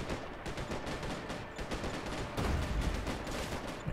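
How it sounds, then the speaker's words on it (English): Gunfire in a Max Payne 3 multiplayer large team deathmatch, rapid bursts of shots crackling continuously at moderate distance, with a heavier thump near the end. "They're shooting at me"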